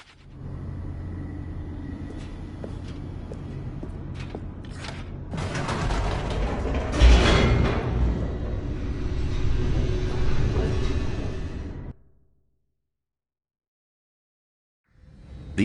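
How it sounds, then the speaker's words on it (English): An elevator races downward in The Stanley Parable, a steady mechanical rumble and creaking hum building over several seconds, swelling louder near the middle before cutting off abruptly into silence, with a faint thump at the very end. "The elevator raced downward, plummeting towards an unknown fate."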